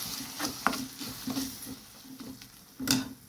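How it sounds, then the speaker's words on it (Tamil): Ground onion and tomato paste dropped into a pan of frying fish masala, soft wet stirring, patters and light sizzling in a few irregular bursts, close and fairly quiet. "இப்போ நம்ம வெங்காய தக்காளி அரைச்ச ஒரு பேஸ்ட்டை போட்டுடலாம்."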